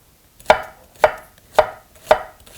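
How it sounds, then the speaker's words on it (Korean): A knife chops through onion on a cutting board in five evenly spaced crisp strokes, close up, with no voices. "우선 양파를 채 썰어 주시고요"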